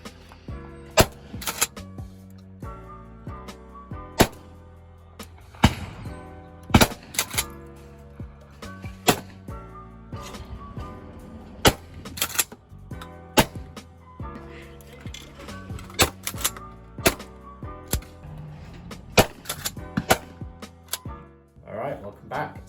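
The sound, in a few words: Winchester SXP shotgun firing at clays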